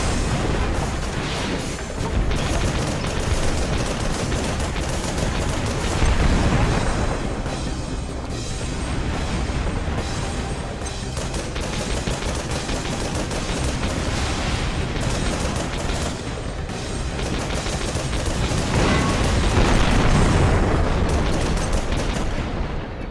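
Missile launcher shots and explosions in the mech combat game Project Nimbus make a dense, continuous roar of blasts, booms and rapid gunfire, with heavier swelling bursts partway through and near the end.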